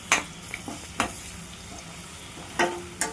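Ginger garlic paste is stirred into onions frying in a pan for a chicken curry. A low sizzle runs throughout, broken by a few brief, close scraping strokes at the start and near the end.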